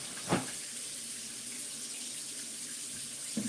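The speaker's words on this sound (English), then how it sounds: "And go ahead and add water to the pot." Tap water runs steadily into a cooking pot in a home kitchen, a constant broadband rush of moderate loudness that starts with a brief splash and holds evenly throughout, with no talking.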